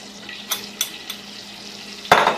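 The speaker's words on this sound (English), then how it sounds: "When your margarine has melted, add your flour" Flour stirred into melted margarine in a pan to start a roux, with a few soft scraping taps of a utensil, then a louder sizzling, bubbling burst near the end; close and moderately loud, no talking.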